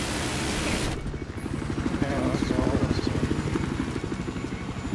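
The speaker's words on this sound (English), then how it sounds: "Okay, two choppers taking off." Two helicopters lifting off in the video game Battlefield 4, a steady rotor chop and turbine whine rising after a brief burst of noise, fairly close and continuous.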